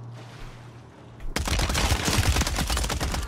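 MTZ-762 battle rifle in a video game firing a sustained, rapid burst that starts abruptly after a quiet moment and stays loud and close for about two seconds.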